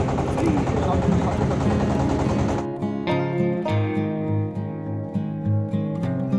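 Boat engine on the Gorai river in Kushtia: a loud, steady low droning chug runs throughout, with a burst of rushing noise early and people talking over it.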